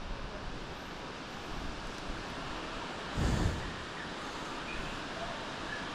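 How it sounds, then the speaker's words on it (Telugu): Wind blows steadily outdoors, and a brief gust buffets the microphone partway through. "ఒకసారి గాలి చూడండి ఎట్టు వస్తుందో."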